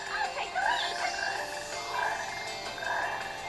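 A frog croaking in the Sonic Heroes video game, with repeated warbling croaks about once a second over a steady game background and no talking.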